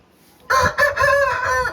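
An old-line Aseel rooster at a farm in Nayudupeta, Nellore district, lets out one loud, close crow that starts abruptly after a near-silent moment and carries on in a strained, wavering rise for over a second.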